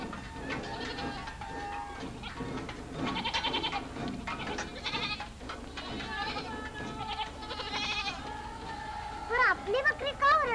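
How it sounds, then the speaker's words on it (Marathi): Goats bleat repeatedly in a rural village setting, several animals calling over a steady background with other voices and farm noise mixed in. "पण आपली बकरी का ओरडतात."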